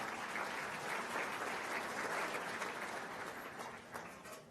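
An audience claps steadily and evenly for guests being introduced at a National Small Business Week chamber event in Arlington, Texas. The applause is fairly faint and fades slightly near the end.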